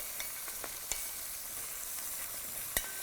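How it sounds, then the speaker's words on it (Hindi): Mutton searing on a bed of onions in a hot pan, a steady close sizzle with a few soft clicks of stirring, no voices. "सिर्फ देखिए सिकाई हो रही है। प्याज नीचे, मटन ऊपर।"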